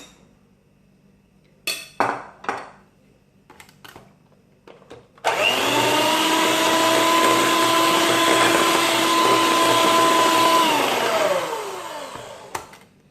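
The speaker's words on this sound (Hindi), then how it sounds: "अब 2 से 3 बैचेस में मैं ये मैदा इसमें ऐड करती जाऊंगी और मिक्स करती जाऊंगी" An electric mixer beats flour into chocolate chip cookie dough, starting abruptly after a few faint clinks and whirring loudly and steadily for about five seconds before its pitch sags and it winds down.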